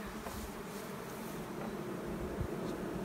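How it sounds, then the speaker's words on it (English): Honey bees buzz steadily around a hive during a summer nectar flow, a dense, continuous low hum at moderate distance with no talking. "These bees are packing in the honey."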